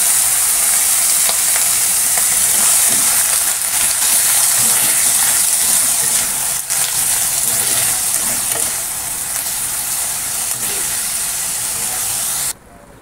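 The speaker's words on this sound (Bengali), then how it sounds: "থোর ভাজা একদম জল দিয়ে দিয়েছি, জল দিয়ে সেদ্ধ করতে দিলাম" Continuous loud sizzling and hissing of banana stem (thor) frying in a pan as water is poured in, steady bubbling steam with no talk, cutting off abruptly near the end.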